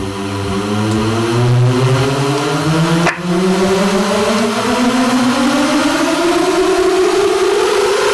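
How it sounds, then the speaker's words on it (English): An uplifter riser in a hip-hop music production, a continuous tone with stacked harmonics that sweeps steadily upward in pitch for about eight seconds, loud and sustained with a brief dip near the middle. "You got your noises like this, your uplifters."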